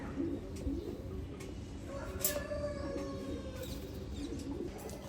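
Gorra pigeons at a farm give soft, low cooing calls over a quiet hum of background noise, with a faint chirp now and then and no voices.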